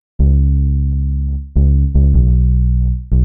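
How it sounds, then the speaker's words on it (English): Bass notes from a Lofi Panda 3 bass preset play in a simple sequence of four sustained, deep, clean tones with sharp attacks, each holding steadily before the next begins. "I put them into this bass preset from Lofi Panda 3"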